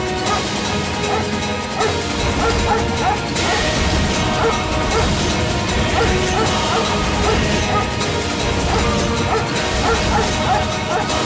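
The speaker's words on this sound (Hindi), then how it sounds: "कुत्ते क्यों भौंक रहे हैं?" Dogs bark loudly in a Hindi TV drama scene, set in a dense, constant wash of background noise and music.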